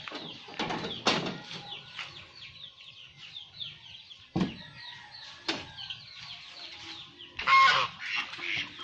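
Poultry calls from ducks kept at a rural Philippine home, with scattered clucks and quacks at moderate distance, a few louder bursts near the start and end against quiet yard ambience.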